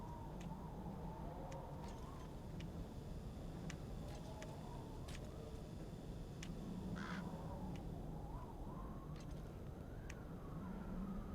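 A bird calls repeatedly in Metal Gear Solid V: The Phantom Pain, with short crow-like caws scattered over a steady low game ambience, fairly faint and distant.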